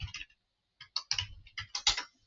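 Quick bursts of computer keyboard typing while a table is recreated, soft clustered keystrokes in short irregular runs with brief pauses between them, close and fairly quiet.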